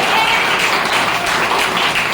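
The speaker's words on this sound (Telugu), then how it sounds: "గట్టిగా చప్పట్లు కొట్టి" A congregation at a revival anointing worship service claps loudly and continuously, a dense wash of hands filling the room with no pause.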